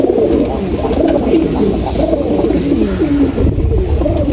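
Dense, continuous cooing from many pigeons in a crowded home loft, with low overlapping calls forming a steady, loud chorus and a faint chirp now and then.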